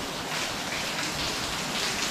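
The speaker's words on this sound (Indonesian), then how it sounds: "Hujan." Steady rain falling outdoors, a dense continuous hiss of drops hitting surfaces, fairly loud and unbroken, with no voices over it.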